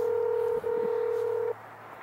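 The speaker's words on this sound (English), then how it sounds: "It's ringing now, at least." A telephone ringback tone on an outgoing call: one long steady electronic beep lasting about a second and a half, briefly interrupted, then stopping into quiet line hiss.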